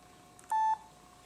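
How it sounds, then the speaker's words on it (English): A single short electronic startup beep from a Toshiba Satellite 1675CDS laptop, clear and steady, rings out for a moment against a faint background hum. "Got a little beep beep there."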